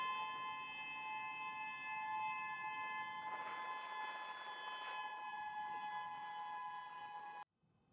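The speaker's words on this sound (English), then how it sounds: "even as sirens were heard after the earthquake came" Sirens wail after an earthquake in Russia, a sustained, steady tonal blare heard from a distance with a faint rise and fall, cutting off abruptly just before the end.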